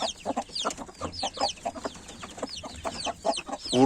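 An Indian fighting-breed chicken clucks in short, repeated bursts, close and alone, with sharp, rapid calls and a louder squawk at the end.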